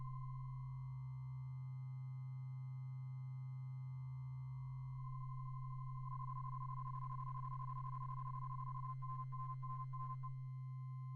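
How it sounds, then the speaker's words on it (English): A steady synthesized sine tone from a Benjolin synthesizer wobbles and warbles as its LFOs speed into audio rate, later joined by buzzy, gritty white-noise bursts and stuttering pulses. "I can boost the LFOs into audio rate."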